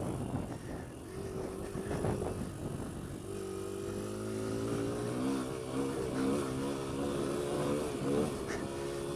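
A Kawasaki KLX140L dirt bike is ridden on pavement, its small single-cylinder engine droning steadily at a moderate distance with rising and falling pitch as the throttle changes, preceded by a brief rougher burst.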